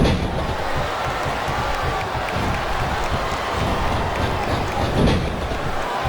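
A wrestling arena crowd in WWE SmackDown vs. Raw 2008 for a submission match, a steady loud roar of fans with swells of noise and occasional impact thuds.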